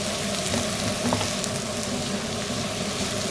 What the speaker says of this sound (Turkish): Burada biberlerimizi de kavuracağız.